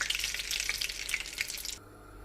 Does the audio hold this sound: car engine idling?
no